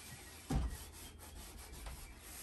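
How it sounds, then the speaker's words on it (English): Light hand-sanding of old stained, poly-coated wooden cabinets gives a soft rubbing scrape, one firmer stroke near the start then fainter strokes, close and quiet with no talk. "I'm just giving this a light sanding"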